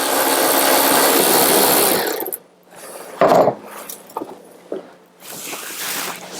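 A cordless power tool whines steadily for about two seconds, removing a tie-down lashing eye in the boot of a Range Rover L322, then stops amid clunks and rattles before running again briefly, close and loud.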